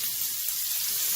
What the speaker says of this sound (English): the shrimp is cooking